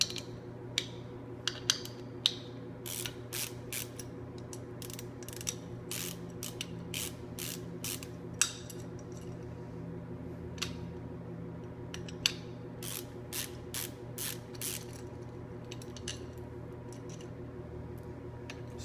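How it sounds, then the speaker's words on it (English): Ratchet wrench clicking in quick bursts while backing out the base plate bolts of an MRI electric center stand on a 2008-or-earlier motorcycle, close and fairly quiet, with repeated short rattling strokes and a steady low hum underneath. "we're going to take the two base plate bolts out of the bottom"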